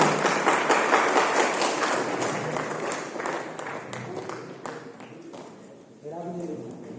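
An audience claps in a hall at a birth-anniversary celebration for Karpoori Thakur at a university in Madhepura, Bihar. The dense applause fades gradually before a voice starts speaking near the end.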